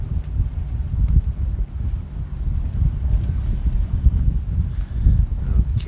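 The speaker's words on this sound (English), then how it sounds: "Do we have to have 30-mile-an-hour winds?" Strong gusty wind of about 30 mph batters the microphone outdoors, a loud, continuous low rumble that surges and eases.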